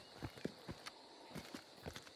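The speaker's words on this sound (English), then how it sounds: "Horse" Faint horse hooves clip-clop in Hunt: Showdown, an uneven run of soft thuds at a walking pace with no other sound over them.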